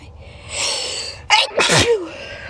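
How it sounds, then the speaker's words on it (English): A person sneezes after tickling the nose with a Q-tip: a quick sharp inhale, then a loud double-burst sneeze up close, with breathy sounds before and after. "the Q-tip's gonna make me sneeze"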